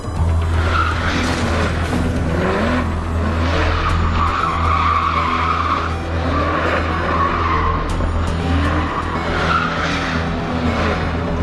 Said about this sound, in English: Now, get in the car and drive.